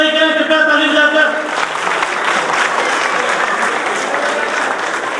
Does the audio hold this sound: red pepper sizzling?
no